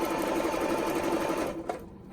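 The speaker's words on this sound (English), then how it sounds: "just use your zigzag on your machine. Just choose a normal zigzag and just go ahead and zigzag" A sewing machine runs fast in a steady close hum as it zigzag stitches down the raw edge of a dress seam, then winds down and stops near the end.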